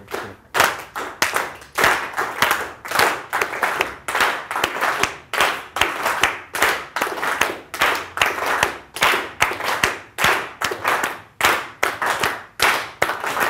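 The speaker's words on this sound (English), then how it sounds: "Clap together, clap together, clap together" A group claps a steady rhythm together in unison during an African drum and rhythm lecture at Glendale College, the sharp, loud claps repeating evenly and close, with no talk over them.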